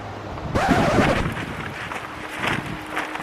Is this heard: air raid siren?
no